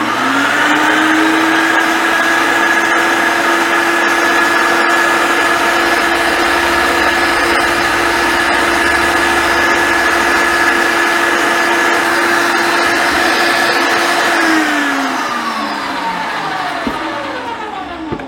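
A meat grinder's electric motor whines loudly and steadily while it grinds spiced sausage meat a second time, then winds down toward the end.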